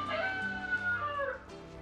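A rooster crows once in a video game, a bright, drawn-out call that rises and then trails off, heard fairly close with no talking over it.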